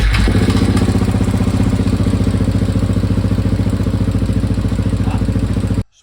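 A KTM 690 SMC-R single-cylinder motorcycle engine fires up and runs at a steady, loud, close idle with a rapid thumping pulse, then cuts off abruptly near the end.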